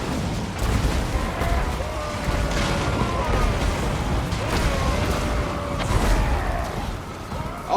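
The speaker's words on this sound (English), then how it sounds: "They walk all that way and then they just get hit by a bunch of salvage charges and torpedoes" Salvage charges and torpedoes blasting in a Warhammer multiplayer battle with Dawi dwarf forces: a steady, dense rumble of booms and crackling impacts that keeps going throughout, with a few louder bursts.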